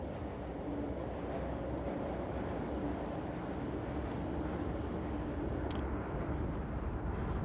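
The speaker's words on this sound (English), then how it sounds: "Oh, one more train here." A train rumbles past, a continuous low roar and rolling rattle of wagons that holds steady throughout, with no voices.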